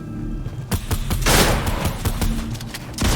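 Rapid bursts of gunfire in the Fortnite video game, a close volley of overlapping shots with a louder crackling burst midway, heard alone without voices.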